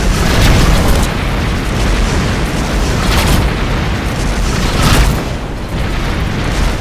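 In a space combat video game, missiles strike a starship in a loud, continuous barrage of booming explosions and rumbling blasts. Sharper bursts stand out about every second and a half, and there is no talk.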